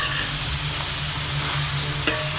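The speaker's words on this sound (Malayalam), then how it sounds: "നന്നായിട്ട് ഇളക്കി കൊടുക്കണം" Chicken and masala stirred in a hot pan for pidiyum kozhiyum, a loud continuous sizzle and hiss with a brief scrape of the spoon near the end, no talking.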